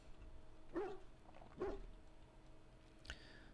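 A dog in the Dragon Age: Origins video game, in Lothering, gives two short, faint barks about a second apart, followed by a softer yip.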